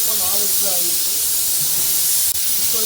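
A pressure cooker's whistle vents steam in a loud, continuous broadband hiss close by, steady throughout with a brief dip near the end, while someone talks over it.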